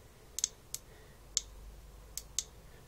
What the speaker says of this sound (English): When you pull the tail, she makes that like a clicking noise.